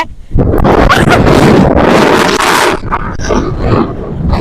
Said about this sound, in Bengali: অত সুন্দর জায়গা, অত বাতাস, কিতা কইতাম।